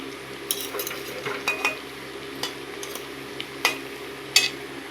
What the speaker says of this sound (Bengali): এভাবে ভাজবেন, এই যে উল্টে পাল্টে আস্তে আস্তে ভাজবেন